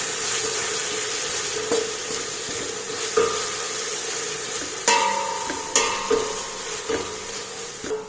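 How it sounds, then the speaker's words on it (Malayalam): Crushed ginger, garlic and green chili sautéing in hot oil in a pan, a steady loud sizzle with occasional spatula scrapes and clinks, close up and without talk. "അത് വെച്ച് നന്നായിട്ട് വഴറ്റിയെടുക്കുക."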